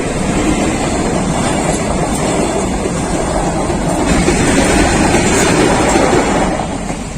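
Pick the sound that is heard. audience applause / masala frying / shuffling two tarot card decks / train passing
train passing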